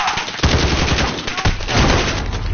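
Loud, continuous video game gunfire, dense overlapping shots that fill the whole moment without a break.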